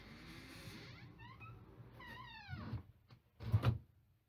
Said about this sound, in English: So now I'm going to test the door.